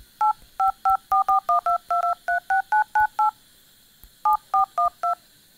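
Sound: Redmi Note 4 phone dial pad touch tones when tapping numbers

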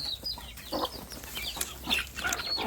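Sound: chickens clucking

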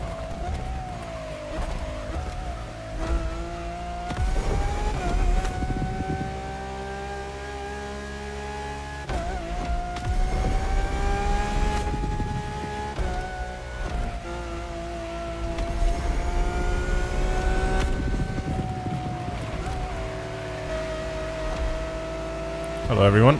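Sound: Lamborghini car engine racing in the video game The Crew Motorfest

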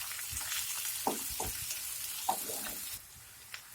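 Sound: onions frying in oil

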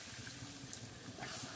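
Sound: water poured into a pan of potato curry

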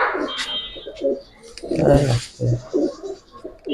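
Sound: Giribaz pigeons cooing

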